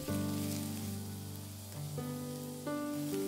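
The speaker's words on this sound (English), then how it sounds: "Add the chopped long green onion and stir fry on low heat until aromatic." Chopped long green onion stir-frying on low heat in vegetable oil in a pan makes a soft, steady sizzle, mostly buried under loud background music.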